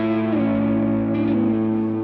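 Overdriven electric guitar holds a minor 6 chord, ringing steadily and alone for a couple of seconds with a slight change in voicing partway through.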